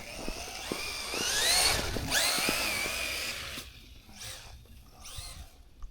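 An Arrma Quake RC truck's electric motor whines at full throttle in snow, a rising and falling high-pitched electric scream nearby that fades toward the end.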